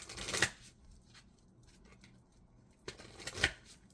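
Two quick riffle bursts of Forest Spirit Oracle cards being shuffled, about three seconds apart, close and crisp with quiet pauses between.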